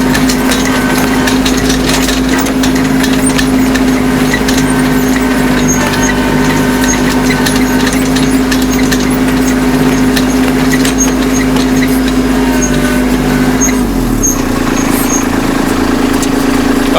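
A tractor's ROPS frame rattles loudly over the steady drone of its engine held at 2,000 RPM, a constant buzzing vibration up close, with the engine pitch dropping near the end.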